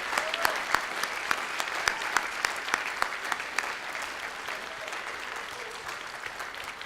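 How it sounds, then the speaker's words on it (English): Audience applause at a junior high band spring concert, a fairly quiet, moderate crowd clapping steadily with distinct individual claps standing out near the start, then thinning gradually. "join us in a round of applause to those two"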